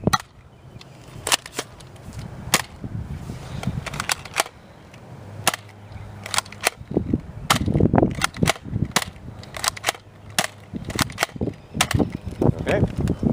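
A Nerf blaster fires AccuStrike darts in a series of sharp, close pops at an irregular pace, level shots taken one after another with faint voices between.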